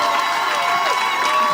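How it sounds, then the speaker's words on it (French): A church congregation applauds and cheers, a dense, loud wash of clapping and excited voices from a crowd that stays steady throughout the short burst. "Acclamez pour maman s'il vous plaît."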